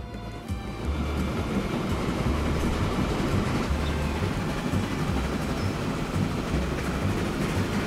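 A freight train of 28 wagons rolls along rails in Transport Fever 2, giving a steady, loud rumble with rhythmic low clatter from the wheels that continues throughout with no talking.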